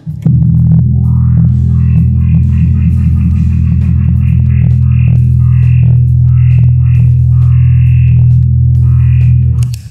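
Bass synthesizer with a super octave played through a Keeley Bubbletron modulation pedal switched on: a loud, deep, sustained tone with wobbling, wave-shifting movement and warbly upper overtones, continuous for about ten seconds with no talking.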